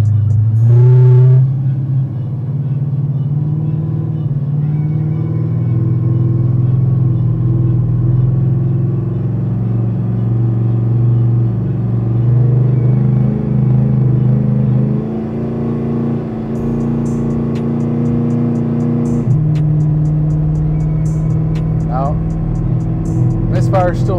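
An LSX 454 V8 in an Impala runs on a dyno with a persistent misfire, a loud, steady engine drone that holds for the whole stretch with slight pitch shifts as it loads, with a few faint clicks near the end.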